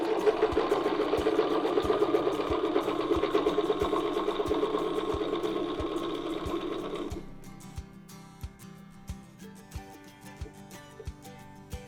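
A sewing machine stitches a loop-to-loop quilting line in a fast, steady run for about seven seconds, then falls to a slower series of evenly spaced mechanical clicks.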